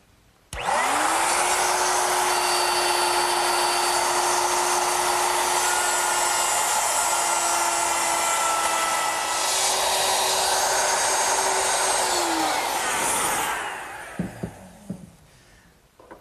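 A router cuts a dado in wood along a guide block, starting with a loud high whine that holds steady for about twelve seconds and then winds down, with a few light knocks after it stops.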